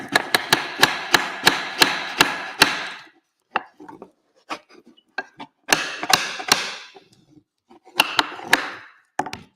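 A track pin hammer taps fence posts into a model railway layout, giving rapid runs of sharp, close wooden knocks in bursts of about eight evenly spaced strikes, separated by short pauses and scattered lighter taps.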